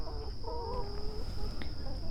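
Chickens at a backyard chicken coop cluck in a few short, bubbling calls over a steady outdoor hum, moderately close and fairly quiet.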